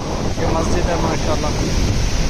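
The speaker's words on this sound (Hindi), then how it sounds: "बहुत ठंडी हवा है, बहुत तेज़ हवा" Strong cold wind gusts beside the flooding Sutlej river at Head Islam. The roar is loud, steady and broadband, with someone talking close over it throughout.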